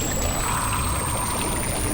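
Magical water fountain gushing in a steady, dense pour with no breaks, loud and close throughout with a thin high tone riding over the rush of water.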